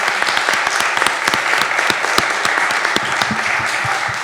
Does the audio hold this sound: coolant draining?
no